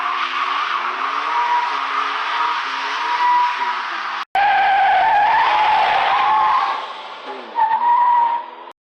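Tires squeal loudly and continuously in a burnout under a revving truck engine, with a brief cut midway before the screeching resumes and tapers off.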